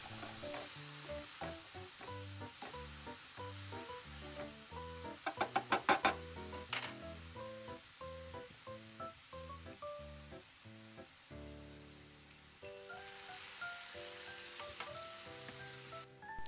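Anchovies stir-fried in a pan with cooking wine, a steady sizzle under rhythmic scraping and stirring, with a brief burst of sharper clatter midway.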